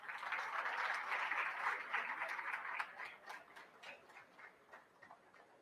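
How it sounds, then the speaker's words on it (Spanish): An audience at an education conference claps, the applause full at first and then thinning into scattered claps as it fades. "Solicitamos la presencia de la magíster Carolina Roca, por favor, para quien pido un fuerte aplauso."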